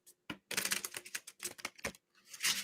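Tarot card decks being shuffled by hand, a quick run of crisp riffling and tapping bursts with short pauses between them, close and clear with no talking.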